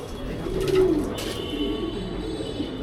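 Pigeons kept for racing coo on a rooftop, a low soft burbling call rising and fading once over faint background noise.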